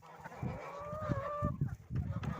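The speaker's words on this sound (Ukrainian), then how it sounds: "Отакі в мене кури всі тут." Backyard hens cluck in soft repeated bursts close by, with a faint drawn-out call rising among the low clucks and no talk.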